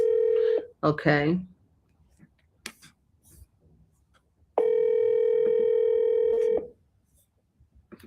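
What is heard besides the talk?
telephone ringing tone on an outgoing call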